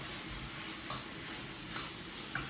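Scallops and shrimp sizzle steadily in a hot pan, a close, continuous frying hiss broken by a few soft scrapes and clicks as a utensil stirs them.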